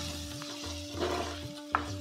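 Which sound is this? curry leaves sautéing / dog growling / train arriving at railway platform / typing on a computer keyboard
curry leaves sautéing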